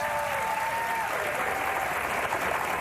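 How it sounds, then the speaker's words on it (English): Steady applause from a television studio audience, a dense continuous patter of many hands clapping at even loudness throughout. "You don't have to applaud."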